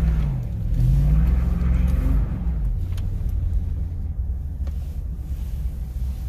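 Toyota Tundra Double Cab pickup engine rumbling and revving while drifting sideways in snow, a deep, loud drone that rises then settles, with wind buffeting the microphone.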